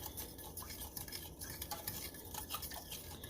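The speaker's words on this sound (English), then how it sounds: "Just get this stirred up real good." Spoon stirring vanilla into a butter roll mixture in a bowl, a steady scraping and swishing that runs through with no voices.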